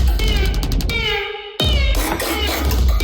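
A cat-like meow sample in an electronic remix track, a plaintive wavering cry over dense, buzzy music with a sharp break midway.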